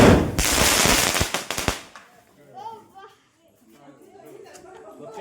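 Firecrackers set off during Diwali crackle in a loud, dense burst of rapid pops for about two seconds, then stop, leaving children and adults chattering nearby.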